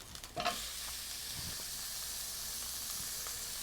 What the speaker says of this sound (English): What I do now is toss in the onions